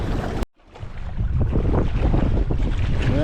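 Heavy wind buffeting a microphone outdoors while fishing for bluegill, a loud rumbling roar that cuts out briefly and then returns, steady and close, with no talking.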